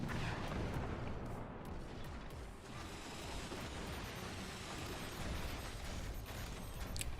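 Howitzers firing in the strategy game Forts: a dense, continuous rumble of booming artillery blasts blending into a roaring wash, loud and sustained, with no voices over it.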